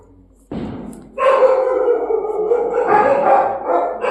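Firecrackers set off a sudden bang, then three dogs break into loud, sustained barking and howling close by, continuing without pause.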